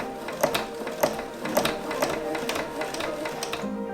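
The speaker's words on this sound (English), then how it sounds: "Now we're going to continue to sew the curve at 1 centimetre seam allowance." Sewing machine running continuously along a curved seam of a baker boy cap at 1 centimetre allowance, a close mechanical chatter with regular sharp ticks about twice a second.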